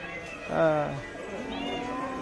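A cat meows with a rising, wavering cry in a busy, noisy setting on a self-guided trip in Beijing, with a second fainter meow later under steady background chatter.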